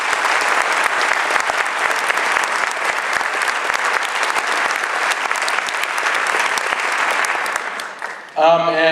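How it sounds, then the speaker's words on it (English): Sustained, loud applause from an audience at a police presentation in Pleasant Grove, Utah, dense clapping that fades near the end before a voice starts speaking. "Round of applause, please."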